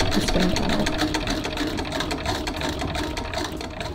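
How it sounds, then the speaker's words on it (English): A sewing machine runs continuously, top stitching an 1890s split skirt, with a steady rapid needle rhythm close by and no talking over it. "I need to continue my line of top stitching just up that way."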